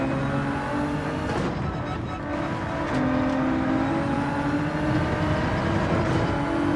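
Race cars at Spa in Gran Turismo 7 drone steadily close by, engine tones rising and shifting as another car draws alongside, with no speech.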